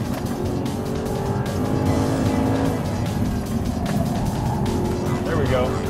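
An Audi R8 driven hard on a fast track lap, its engine roaring close and continuous with tires squealing through corners, while a voice talks over it.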